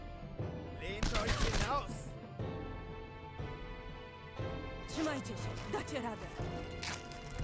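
Controlled volleys of gunshots in the WW2 Warsaw Uprising video game Warsaw, two bursts of sharp cracks under steady talk and game music.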